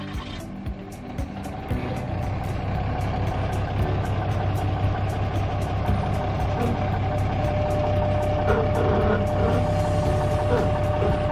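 A pickup truck idles with a steady low engine drone while backing slowly up to a rental trailer to hook it up, with faint periodic clicks over the hum.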